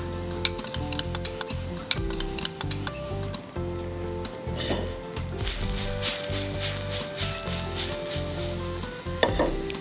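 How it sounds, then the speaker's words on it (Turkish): Onions and red kapya peppers sizzle steadily as they sauté in butter in a pan, with repeated scraping and clinking from stirring throughout. "Evet, soğan, biberimizi kavurduk."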